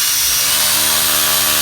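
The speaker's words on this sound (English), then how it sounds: "I just take a drill and I just drill into the washer" A power drill bores into a rubber hose bib washer, a loud, close, continuous high-pitched grinding whir with no talk.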